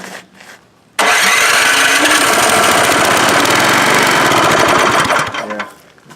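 An MTD snowblower engine bursts into life and runs loud and close with a rapid, chattering roar for several seconds, then cuts off abruptly.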